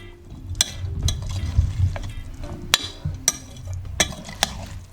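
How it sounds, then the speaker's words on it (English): A utensil stirs avocado sauce and lemon juice in a pan, sending out sharp scraping clicks at irregular intervals over soft, wet mixing sounds, close up and with no talking. "and just stir it up like that"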